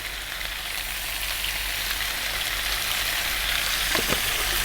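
Mutton masala curry frying over medium heat with fresh chilies and salt, a steady close sizzle that holds throughout with a few light stirring knocks near the end.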